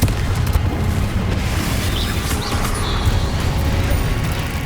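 A Confringo spell blast from Hogwarts Legacy, a dense roaring explosion that holds loud and steady for the whole span with no clear break or separate hits.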